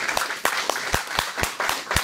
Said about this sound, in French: Et applaudissons.